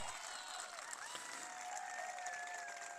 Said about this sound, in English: that cheer you're hearing is from rink 1, where Orkney are also playing Shetland, but that is in the ladies' pairs